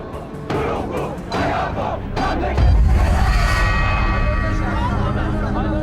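Large crowd of protesters on the streets in Iran chanting and shouting together, a loud, dense roar of many voices that swells and holds steady.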